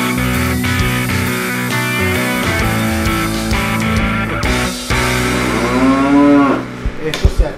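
Dairy cows moo in a barn on a milking farm in Canada, several overlapping calls against steady machinery hum, fairly loud and close, with one long rising moo near the end.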